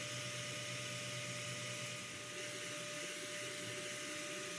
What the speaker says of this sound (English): it is sending a lot of air into the printer cabin by pulling cooler air in from outside